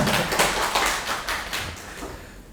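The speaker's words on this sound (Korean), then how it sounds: "김혜민 편집팀장님께 박수 한번 보내주시죠" Short burst of audience applause at a book talk event, loud and close, with clustered hand claps that swell briefly and then taper off over a couple of seconds.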